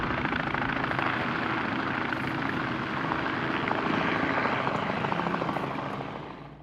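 A helicopter called in for an injured rider at an outback motorcycle adventure rally, its rotor and engine roar loud and continuous, close by, fading slightly at the end, with no voices.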